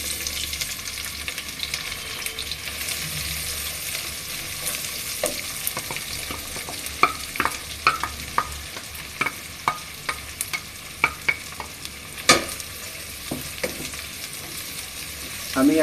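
Onions frying in hot oil for a duck bhuna, a steady bright sizzle with a series of sharp scraping and clacking strokes from a spatula stirring the pan, close and loud, no voices.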